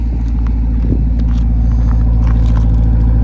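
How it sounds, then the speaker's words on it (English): A 2021 Dodge Durango SRT Hellcat's engine produces a deep, steady, loud rumble from inside the vehicle, heavy low drone throughout with no voices. "listen to that thing rumble"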